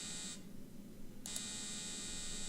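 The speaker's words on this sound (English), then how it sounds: "That's a generator." A steady electronic buzzing hum from a generator in the video game 1953: KGB Unleashed drones throughout, with a high whine that drops out briefly and then returns.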